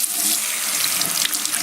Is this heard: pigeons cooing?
no